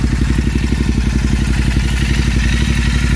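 A Royal Enfield Continental GT 650 fitted with an S&S exhaust idles up close, loud and steady, with an even, deep thumping exhaust pulse throughout and no voices.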